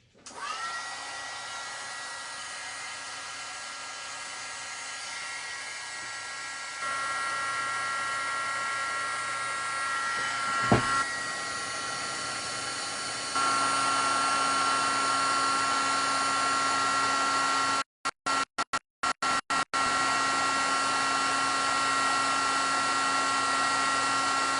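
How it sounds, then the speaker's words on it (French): A handheld heat gun blows steadily while heating embossing powder on a card, a continuous whirring whine with a high tonal hum, shifting in loudness a few times and cutting out briefly near the end, close and alone. "Je vais venir prendre mon pistolet chauffant et venir chauffer ma poudre."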